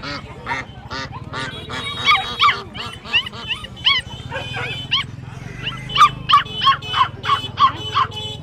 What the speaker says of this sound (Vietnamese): Ở đây có con chó trắng đốm này,